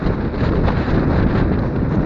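Strong wind buffeting the microphone on a mountain climb in Barla, a loud, steady roar with constant rumbling gusts and no voices.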